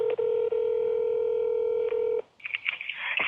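Telephone tones play on a call to a Jeep dealership: a steady dial tone sounds for about two seconds, broken by a couple of brief dropouts, before giving way to quicker bursts of dialing tones and line noise.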